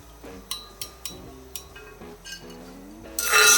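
Crispy deep-fried ginger pieces clatter onto a plate in a kitchen, several sharp light clinks spaced irregularly, ringing briefly before a burst of noise at the end.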